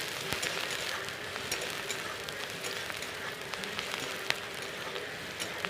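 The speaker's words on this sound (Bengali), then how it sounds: "এটা একটু লাল লাল করে ভেজে নেব।" Chopped onion and green chilli fry in hot oil with a steady, even crackle and hiss of fine bubbling pops, continuous and fairly close, with no voices.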